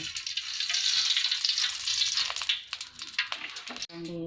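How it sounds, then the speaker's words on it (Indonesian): Hot oil sizzles loudly and close as ingredients are sautéed for an Acehnese green-chili oyster stir-fry, with stirring scrapes, then the sizzle drops away and a voice is heard at the end. "Masukkan minyak, ditumis dulu."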